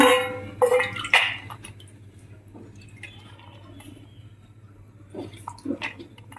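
Soaked toor dal is rinsed by hand in water, with a few close splashing, sloshing bursts in the first second and a half, then faint drips and a brief swish near the end.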